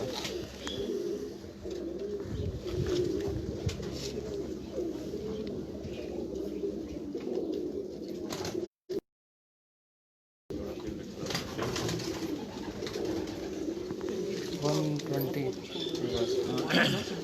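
Pigeons coo repeatedly in a low, throaty rhythm on a city rooftop, with occasional chirps and brief gaps, the birds sounding fairly close and steady throughout.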